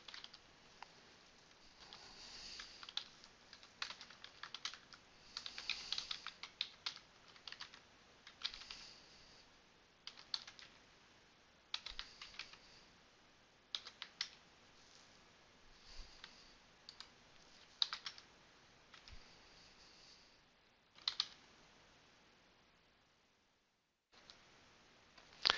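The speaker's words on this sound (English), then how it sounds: "And then I complete by typing make install" Steady typing on a computer keyboard, quiet, close clicks in uneven bursts with short pauses, no voices.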